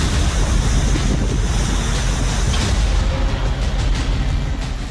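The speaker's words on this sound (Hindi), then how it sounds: "पानी की लहरें शोर कर रही हैं।" Floodwater in Pithoragarh, Uttarakhand, surging at full speed as if a dam gate had opened: a loud, continuous broadband roar of churning waves, with gusty wind buffeting the microphone throughout.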